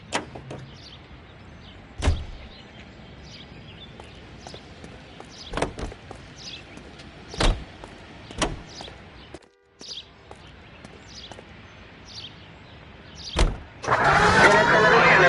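A car in the LA Noire video game, with car doors thudding shut and clunking at intervals over a low steady engine hum, ending in a louder burst of engine noise and crackle.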